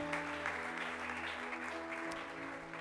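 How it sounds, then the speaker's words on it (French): A church congregation claps at a Sunday service, and the steady applause of many hands fills the room for the whole stretch, with no one speaking. "Est-ce qu'on peut encore acclamer mieux?"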